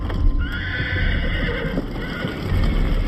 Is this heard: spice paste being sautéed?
no